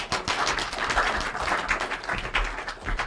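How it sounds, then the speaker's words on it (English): A studio audience on a Nigerian radio and TV call-in program applauds a returning guest with dense, close hand clapping. The clapping stays lively and uneven throughout, with scattered louder claps and a low hum of voices underneath. "Una no go clap for him."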